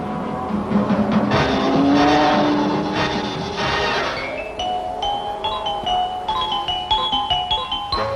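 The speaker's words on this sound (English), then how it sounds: "Let's watch Jane's hair-raising wheel raising again in slow motion." Race car engines roar and whine past, loud and near, then settle into rising and falling revving with squealing tones, no voices, during a six-hour race at Sandown.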